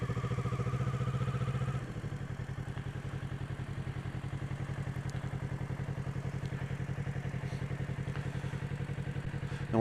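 A motorcycle engine idling and pulsing steadily at low speed through a slow U-turn controlled with the rear brake, with a brief change in engine note early on and a rapid, even throb throughout.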